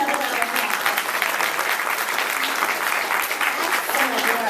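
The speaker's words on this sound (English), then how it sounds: "Give another round of applause." Audience clapping after a children's school play, a sustained burst of many hands, loud and close, with faint crowd murmur beneath.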